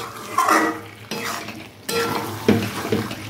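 A spoon stirs and mixes methi butter chicken roast in a pan, scraping and clinking against the metal in several separate strokes, with a soft sizzle underneath, close by and without talk.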